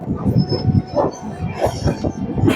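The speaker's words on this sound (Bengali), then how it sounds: "এখন আমাদের ট্রেন পার করছে হাতিখালি" A train on a hill railway line runs with a loud rumble, its wheels knocking rhythmically over the rails at moderate speed, close to the listener.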